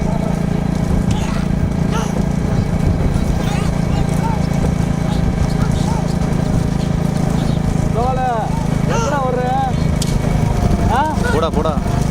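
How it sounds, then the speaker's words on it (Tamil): Bullock cart race with bulls running past: steady loud rumble of hooves and cart wheels over continuous crowd noise and an announcer's voice, with whistles cutting through near the end. "பின்னால் மாடு வருது பின்னால் மாடு வருது"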